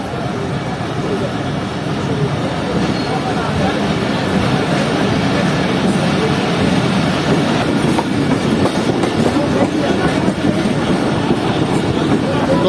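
A passenger train on a Pakistani railway runs steadily along the rails after departing a station, with continuous loud rumble and clickety-clack of the wagons throughout, heard from on board.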